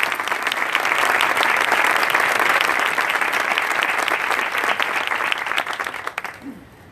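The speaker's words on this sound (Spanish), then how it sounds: "Un aplauso" Audience applause at a TEDx talk on ageingnomics, a dense crowd clapping loudly and steadily, then thinning and fading out near the end.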